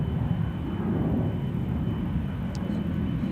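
A jet airliner rolls along a taxiway at Schiphol airport near the Polderbaan runway, a steady loud low rumble and whir of engines filling the whole stretch, with a brief faint chirp near the end.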